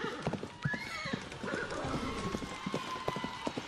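Horses galloping at a celebration in Ghana's Northern Region: rapid clip-clop hoofbeats with a whinny, moderately distant, under a busy crowd atmosphere.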